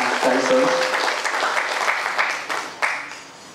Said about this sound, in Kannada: ಜೋರು ಚಪ್ಪಾಳೆ ಮೂಲಕ ಅಭಿನಂದನೆಯನ್ನ ಸಲ್ಲಿಸೋರು.